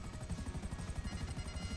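A helicopter in a GTA heist video game gives a steady, fast rotor thump, fairly faint and continuous over a brief stretch, with no speech.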